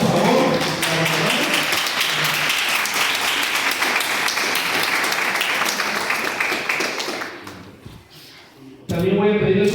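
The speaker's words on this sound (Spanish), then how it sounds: "Un aplauso, por favor." An audience at a conference in Perote applauds for several seconds, a dense wash of clapping that fades out, with a voice speaking before and after it.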